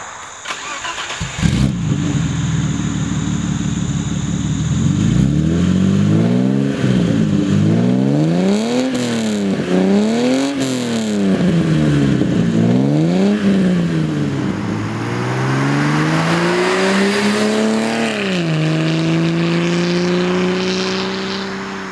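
A BMW E30's 2.5-litre straight-six idles through its exhaust, then revs up and down repeatedly in rising and falling sweeps, loud and close, with no talking.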